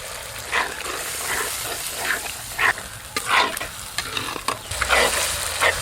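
Spice paste of cumin, coriander, dried chilli paste, turmeric, chopped tomato and salt frying in oil, with continuous sizzling and repeated scraping stirs of a spoon, close up, in a village-style kitchen.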